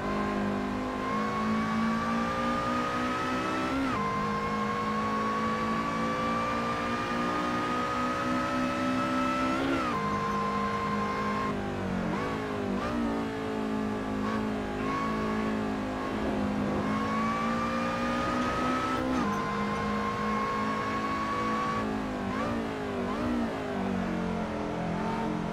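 Race cars in the Assetto Corsa video game sound a steady, loud engine drone throughout, with rising pitch sweeps as the engines accelerate and shift, building closer over time without any voices.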